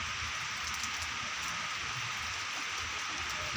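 Heavy rain pours outside a house as a continuous broad hiss at steady loudness, with no distinct drops or voices.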